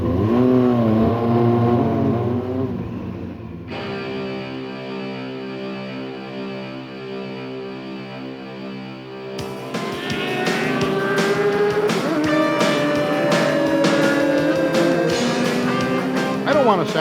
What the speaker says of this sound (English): I may have 750 cc's of engine rocketing me forward